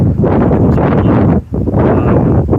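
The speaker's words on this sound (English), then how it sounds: "it's decided to throw a gust of wind at me" Loud, blustery wind buffets the microphone in a continuous roar, briefly dropping out for a moment before gusting back.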